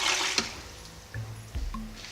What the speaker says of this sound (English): Okay, so you finish blending and you just pour it in.